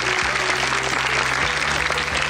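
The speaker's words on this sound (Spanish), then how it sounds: "con un fuerte aplauso del público" Steady, full studio audience applause, a loud continuous wash of many clapping hands with a low background tone running underneath.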